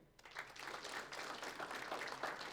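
Audience applause at a Lithuanian sports journalists' federation awards ceremony, a steady wash of many hands clapping that swells quickly and holds at an even level for the whole stretch.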